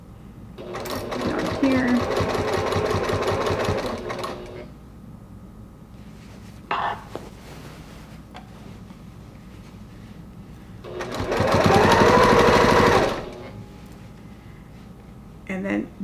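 Sewing machine stitching binding onto a quilt, with two sustained bursts of fast rhythmic needle chatter separated by a short pause and a clunk, close by, with brief talking between runs.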